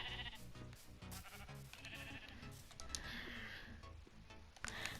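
Sheep bleat in a settlement-building video game, their calls mixed into a dense, continuous bed of busy game sounds and music.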